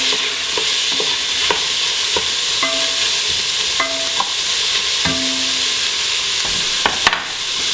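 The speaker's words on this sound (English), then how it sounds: "the onions and carrots cooking down, mixed in with the tomato paste" Onions and carrots cook down with tomato paste in a soup pot, a close, steady sizzle broken by repeated scraping strokes of a stirring utensil, with no talking.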